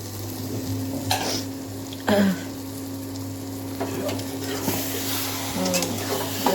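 Taro pieces cooked with coconut and shrimp being stirred in a pan over a constant sizzling, watery hiss with occasional spatula scrapes, and voices speaking nearby.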